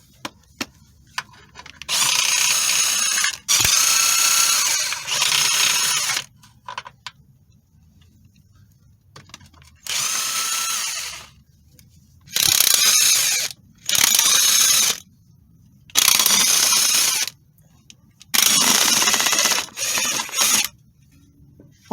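A power tool runs in repeated bursts of a few seconds each while backing out the 10 mm bolts on a Toyota Sienna transmission pan, close and loud, with quiet gaps and small clicks between runs.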